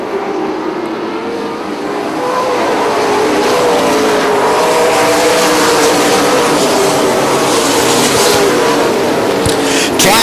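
Super late model race cars taking the green flag, engines building from a lower rumble into a loud, sustained roaring drone of many cars circling the track, a few faint voices beneath.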